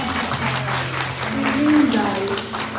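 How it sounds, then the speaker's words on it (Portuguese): A church congregation applauds children at a Sunday morning celebration service, with steady clapping throughout and a voice talking over it. "Vamos aplaudir essas crianças de Jesus."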